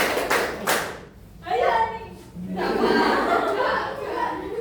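Schoolchildren in a seventh-grade classroom clap in short bursts of rhythmic patterned claps, loud and close, with pauses between rounds and some giggling.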